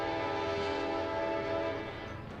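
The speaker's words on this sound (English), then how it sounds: "the train rolling on by" A train horn sounds in a long steady blare near a soccer stadium just north of the airport in central Phoenix, loud and continuous and fading slightly at the end.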